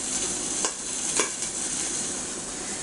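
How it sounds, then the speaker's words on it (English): Steady close sizzling of flank steak pan-searing in a hot pan, with a couple of faint utensil scrapes. "We're going to let it sizzle just a little bit, but not too much."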